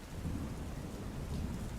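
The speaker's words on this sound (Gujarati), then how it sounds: "મેઘરાજાએ સુરતમાં અત્યારે વરસાદી માહોલ જમાવ્યો છે" Steady rain pouring down on Surat, India, with a low, continuous rumble of thunder underneath, loud and enveloping, no voices.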